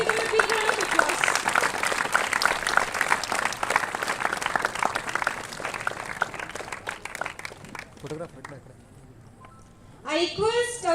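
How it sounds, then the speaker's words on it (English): Sustained applause from an audience at a closing ceremony as prize winners come onto the stage, steady and full for most of the stretch before it fades out, with voices speaking near the end. "Please give them a big round of applause."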